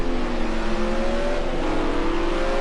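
Porsche GT race car at Silverstone during a British GT race, its engine note rising steadily as it accelerates with a loud, continuous tone, alone and fairly close.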